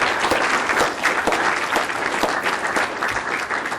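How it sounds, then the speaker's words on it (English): A room full of people applauds steadily, a dense, even wash of clapping that holds at full strength without a break, honoring a contributor at a seminar event. "round of applause for him as well"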